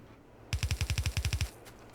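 Factorio gun turrets fire a quick burst of about eleven evenly spaced shots lasting roughly one second, loud and close against a quiet background hum, with no talking.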